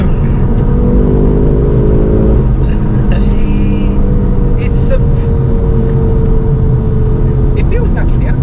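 An MK2 Ford Focus RS is heard from inside under hard acceleration, with a loud rising engine drone and road rumble, and a few rising pitch sweeps that suggest gear changes.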